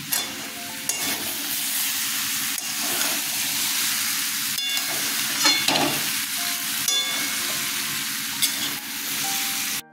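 Elephant foot yam and chickpea curry sautéing in a pan, a steady close sizzle and hiss with occasional scraping stirs and clinks throughout, no talking.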